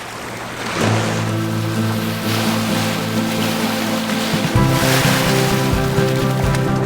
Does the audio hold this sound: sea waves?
yes